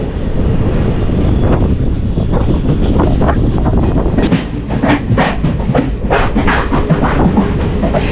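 Palaruvi Express, a sleeper-class train, rolls into Ottapalam station with a loud continuous rumble and rhythmic clicking of wheels over rail joints, heard from on board without talk.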